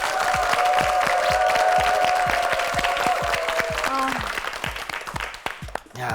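Studio audience applause on a Korean word-guessing quiz show, a steady crowd clapping with a sustained musical tone over it that fades out, then the clapping thins toward the end.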